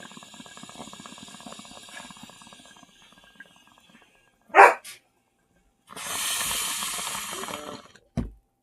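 A husky barks in a short loud burst with a smaller follow-up yelp, standing out after a stretch of quieter rhythmic noise, followed by a rushing hiss and a final thump.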